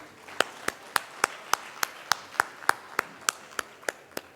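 Crowd at a Diwali get-together speech event claps in unison, crisp, evenly spaced strikes about three per second in a steady rhythm, each one clear and sharp against a quiet room.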